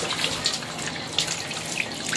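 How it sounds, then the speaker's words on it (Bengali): Supply tap water runs in a steady, full rush, like a faucet pouring into a sink or container, hissing continuously and fairly close with no pauses. "দেখো এই যে সাপ্লাই জল খুলে চলে যাচ্ছে"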